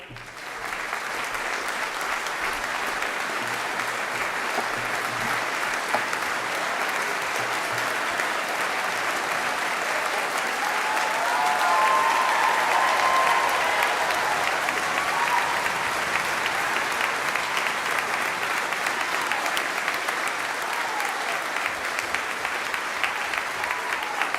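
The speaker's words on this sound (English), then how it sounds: "And that was a round of applause." Sustained audience applause fills a graduation ceremony hall, a steady dense wash of many hands clapping at an even level for the whole stretch, with no talk over it.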